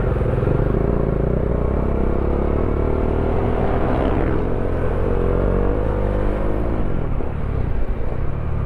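A 400cc motorcycle engine drones loud and steady while riding on a road trip, a continuous close rumble with no pauses and a slight pitch shift midway.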